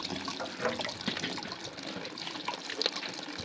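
Tap water runs and splashes steadily as vegetables are washed, a close, continuous trickle with small irregular spatters and no talking.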